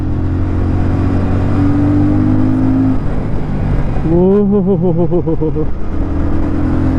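A 2024 Royal Enfield Shotgun 650 twin, carrying a 90 kg rider, pulls hard in first gear with a loud steady engine drone and rising, wavering revs midway, while a rider briefly exclaims over it.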